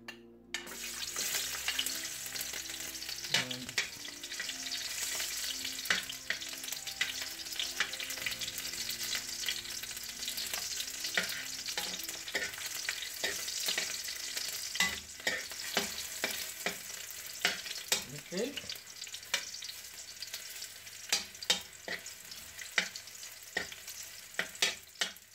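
Garlic fries in hot oil as the first step of ginataang manok, giving a steady, close sizzle with occasional utensil clinks and scrapes from stirring and no talking throughout.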